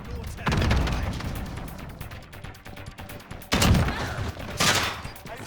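Video game gunfire in Modern Warfare: repeated loud bursts of rapid shots with booming impacts, heard in several volleys with brief lulls and voices talking over them.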